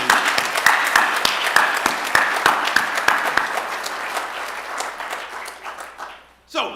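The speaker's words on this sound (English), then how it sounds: "could we please all give a round of applause for the Tulane" Applause from the audience at a Tulane public conversation event. Steady, full clapping holds for several seconds, then tapers off, and a voice briefly starts at the end.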